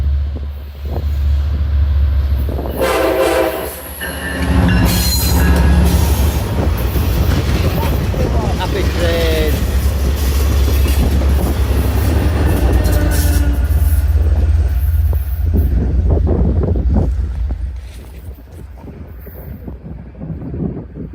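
An American railroad train passing in Cary, North Carolina: a loud, continuous rumble and rattle of rolling cars with some thin metallic squeals. Heavy wind buffets the microphone, and the sound eases off near the end.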